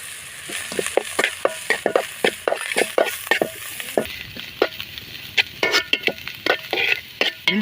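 Curry leaves, ginger, coriander and cumin powder sautéed in hot oil for Tamil goat blood fry, a steady sizzle broken by a rapid series of sharp scraping stirs of a spoon against the pan, close and loud, with no talking.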